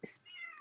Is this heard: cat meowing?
yes